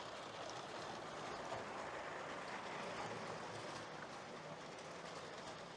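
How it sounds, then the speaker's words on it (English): LEGO passenger trains, including a high-speed one, roll around a LEGO city layout with a steady, close clatter of plastic wheels on track and no talking. "So we've got the high-speed passenger train"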